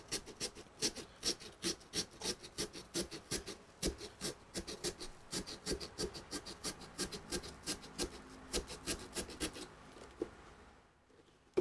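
A cutting tool works into a pumpkin, producing rhythmic rasping scrapes about twice a second, close and fairly quiet, that stop abruptly near the end.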